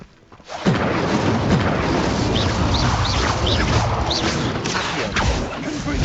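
A fire spell going off in the video game Hogwarts Legacy: a sudden loud whooshing burst that swells into a sustained roaring, crackling blast, close and full, with a voice briefly heard.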